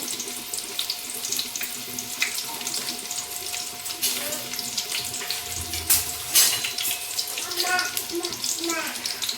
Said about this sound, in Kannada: ಫಸ್ಟ್ ಈರುಳ್ಳಿ ಹಾಕ್ಕೊತೀನಿ. ಚೆನ್ನಾಗಿ ಕೆಂಪು ಬೆನ್ಕೋಬೇಕದು.